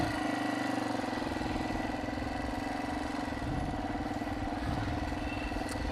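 Motorbike ridden along a pedestrian walking street in Guilin, its engine a steady close droning putter that holds throughout without pauses or talk.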